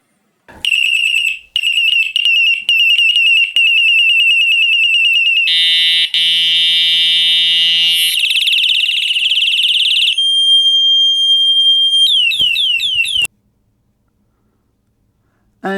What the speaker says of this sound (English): it appears that it's possibly an alarm. Maybe an alarm as well as a bell, or maybe it's just an alarm.